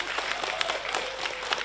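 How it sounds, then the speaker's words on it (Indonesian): Applause rises from the audience at a 2024 regency head and deputy election debate, a brief burst of clapping at a moderate level, with no voices over it. "Berikan tepuk tangan yang meriah untuk kedua peserta debat kita."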